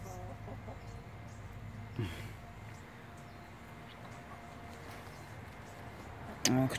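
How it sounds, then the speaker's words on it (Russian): Chickens cluck softly in a backyard coop run outdoors, faint and low under a quiet ambient hum, with a couple of louder calls, while a person speaks now and then. "Тут курочки гуляют. Это такой куриный выгул."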